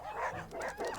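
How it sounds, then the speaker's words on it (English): Quick, excited dog barks and yips from a video game in a short burst, slightly muffled and whiny. "Hearing Wendy's excited barking, lots of puppies start to gather"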